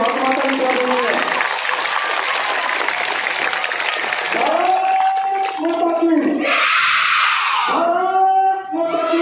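Schoolgirls clap together at a flag-hoisting ceremony at a municipal school in Mundka ward, a dense burst of applause mixed with loud voices chanting and speaking over it.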